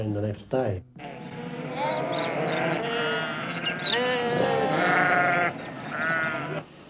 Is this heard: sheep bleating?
yes